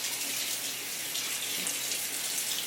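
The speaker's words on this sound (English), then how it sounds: "And just run them in water" Tap water runs steadily into a strainer of kidney beans being rinsed, a constant close hiss and splash with no talk over it.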